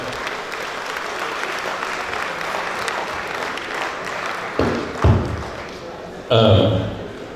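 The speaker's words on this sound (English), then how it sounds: "A round of applause for our president." Steady applause from an audience at a conference closing ceremony fills the room, followed by a few loud thumps and a short burst of noise near the end.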